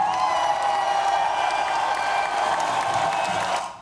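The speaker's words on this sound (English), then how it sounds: "Let's give George a round of applause." An audience claps in sustained applause with some crowd noise mixed in, holding steady and fairly loud before tapering off sharply at the end.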